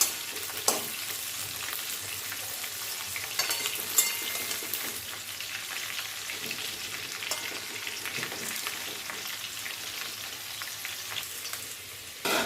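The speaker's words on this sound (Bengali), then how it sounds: "আলুগুলো ভালো করে উল্টে পাল্টে ভেজে নিচ্ছি।" Potatoes frying in hot oil for a mutton curry, a continuous close crackling sizzle with occasional clinks and scrapes as the pieces are turned in the pan, steady throughout with no talk.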